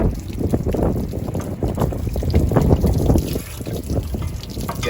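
Strong Texas wind gusts across the microphone outdoors, a loud, continuous low rumble and buffeting that holds for the whole stretch.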